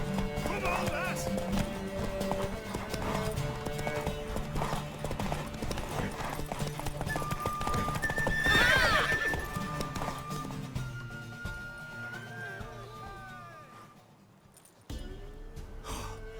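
Galloping horse in the video game The Witcher 3, with steady clip-clop hoofbeats throughout, a loud whinny midway and game voices talking over the gallop.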